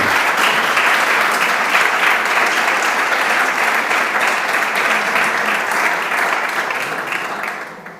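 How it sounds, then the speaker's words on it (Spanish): Sustained audience applause at an environmental forum for a regional councillor, a dense steady clapping that holds for several seconds before tapering slightly at the end. "Creo que se merece un aplauso, consejero"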